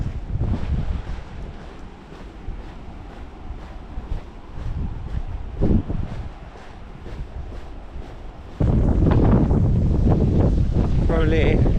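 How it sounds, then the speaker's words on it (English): Strong night wind buffets a microphone on a walk from Wadebridge to Newquay, rumbling continuously and jumping much louder near the end, with a voice partly drowned beneath it. "Probably impossible to try and talk about anything with the wind like this."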